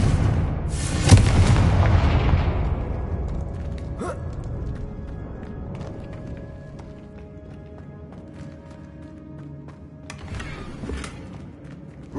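A Confringo blast goes off in Hogwarts Legacy: one loud explosive boom early on that decays into a long rumbling tail, with a sharp crack later and a second burst near the end.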